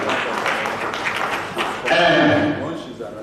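Audience applause at a university retirement ceremony for Professor Kayode Adebowale Adelusola, a broad crackling clap swelling midway and carrying on steadily, with a voice over it.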